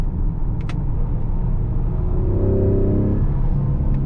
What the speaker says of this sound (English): You can really hear those turbos spool up.